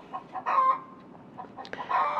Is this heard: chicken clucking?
yes